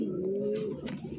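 Pigeons coo close by among birds kept for sale, a low soft throaty warble swelling and trailing off, with faint rustling behind and no talking.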